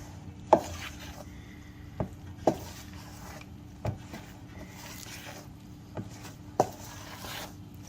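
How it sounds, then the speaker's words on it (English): Biscuit dough is worked around a bowl with a spoon, giving soft dull scraping and occasional sharp knocks against the bowl, close and fairly quiet, with no talk. "I'm going to stir that around."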